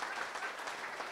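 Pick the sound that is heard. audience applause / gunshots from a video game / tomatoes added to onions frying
audience applause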